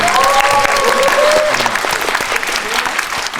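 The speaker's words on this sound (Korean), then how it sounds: "여러분 박수 한 번만." An audience breaks into dense, loud applause at a Korean film talk event after a new father is congratulated, the clapping sustained throughout with a voice or two rising briefly over it early on.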